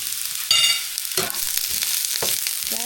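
Onion stir-frying in a pan after garlic, a steady loud sizzle with a burst as the pieces hit the oil, followed by scraping stirs and clinks of the utensil.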